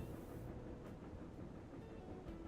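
A locomotive running in the Railroad Corporation 2 transport sim gives a steady, close, low rumble that holds constant and alone throughout.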